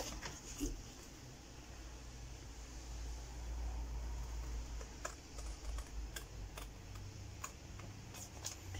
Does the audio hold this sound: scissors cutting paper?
yes